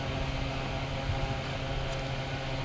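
Steady mechanical whir of a sewing machine stitching the leg of a salwar, a continuous even motor hum with fine rapid needle texture running throughout, close and moderately loud with no talking.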